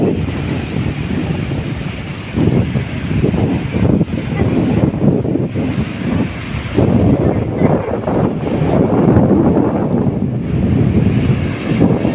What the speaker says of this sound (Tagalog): Yung dagat ngayon medyo maalon